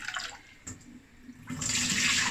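Rice for Persian saffron rice being rinsed, with water running and splashing, first a few faint drips and then a louder, steady pour near the end, close by.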